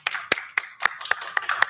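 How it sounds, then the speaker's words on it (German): Hand claps from a small group of people at an Oktoberfest beer tent show, sharp, irregular and fairly close, spread over under two seconds with no voices. "ihr dürft gerne auch mal zwischendurch einen Applaus machen"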